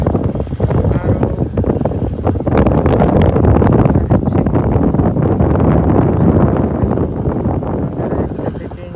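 Strong natural wind buffeting a microphone outdoors in a nature area of Saidpur, a loud constant broadband roar with gusting texture that never lets up, close and dominant throughout.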